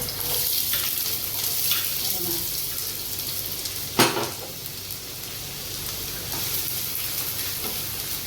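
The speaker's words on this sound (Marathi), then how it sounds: "तेल टाकलं आहे कांदा टाकूया" Chopped onion fries in hot oil in a pan for masala egg bhurji. A strong, steady sizzle runs up close the whole time, with one sharp metallic clink partway through.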